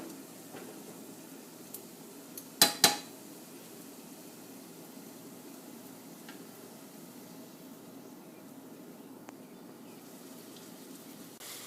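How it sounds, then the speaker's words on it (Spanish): Tortilla chips fry in very hot oil, turned with a fork, giving a soft, steady sizzling hiss with a couple of sharp clicks and crackles early on. "a freír los chips con los tortillas"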